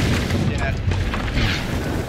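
Booming ship cannon fire from a pirate galleon in the video game Sea of Thieves, heavy blasts and rumble layered with players talking over voice chat.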